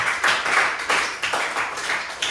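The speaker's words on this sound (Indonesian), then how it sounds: "tepuk tangan dulu buat kalian" A group claps hands at a teacher training event, a close, bright burst of applause rising and falling in several uneven waves.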